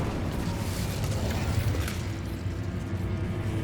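An Incendio fire spell cast in Hogwarts Legacy, a sustained roaring, rumbling burst of flame with a low, heavy body lasting a few seconds, no voices over it.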